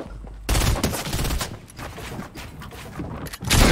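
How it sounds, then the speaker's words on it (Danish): An opponent fires on the player in a video game: loud, rapid bursts of gunfire start after a short quiet moment and continue in dense volleys to the end. "så det er ham, der skyder mod dig"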